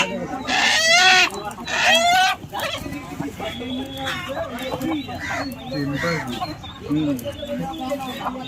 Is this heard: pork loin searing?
no